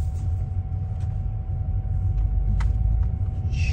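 Steady low engine and road rumble fill the cabin of a Seat Leon FR on the road to the airport in Spain, a continuous close drone with faint rattles and no talking.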